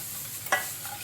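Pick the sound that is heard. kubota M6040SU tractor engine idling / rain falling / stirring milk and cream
stirring milk and cream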